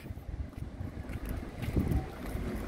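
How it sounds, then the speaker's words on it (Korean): Wind gusts faintly across the microphone at Homigot Sunrise Square by the sea, a soft, uneven rushing with low buffeting and no clear voices. "아, 바람 시원하네."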